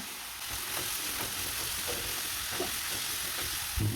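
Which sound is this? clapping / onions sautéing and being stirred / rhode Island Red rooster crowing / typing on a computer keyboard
onions sautéing and being stirred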